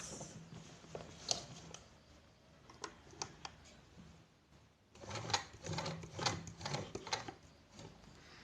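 A sewing machine stitches a buttonhole with its handwheel turned by hand, giving soft, close, uneven clicks and ticks in slow irregular steps that pick up into a denser stitching patter toward the end.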